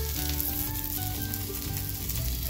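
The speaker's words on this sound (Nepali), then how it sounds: "पनिर अब रेडी भएर फ्राई पनि भइसक्यो" Homemade paneer fries in oil in a pan, a continuous close crackling sizzle with no talk.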